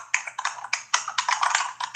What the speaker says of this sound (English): We can hear someone typing.